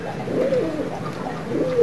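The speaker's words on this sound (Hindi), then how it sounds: "बड़ा प्यारा कबूतर है" A freshly caught pigeon coos up close, low rolling calls repeating in a steady rhythm over faint background hiss.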